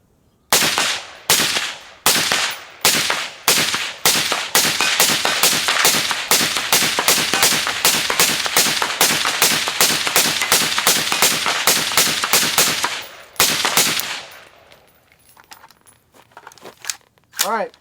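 Law Tactical ARIC rifle firing rapid shots outdoors, a few opening bursts followed by a long, loud, fast string of sharp reports that stops abruptly, then quieter handling noise.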